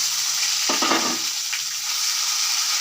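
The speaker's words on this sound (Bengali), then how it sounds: "তারপরে এই যে পেঁয়াজ আদা রসুন সব একসঙ্গে দিয়ে দিলাম" Onion, ginger and garlic hitting hot oil with a little sugar in a pan, a steady bright sizzle with a brief clattering stir near the start.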